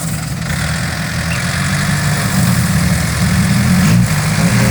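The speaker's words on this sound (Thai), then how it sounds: "ใช้รถไถครับ" Farm tractor engine runs steadily at a low, heavy idle while working to pull a vehicle stuck in mud, its rumble loud and continuous with slight rises in revs.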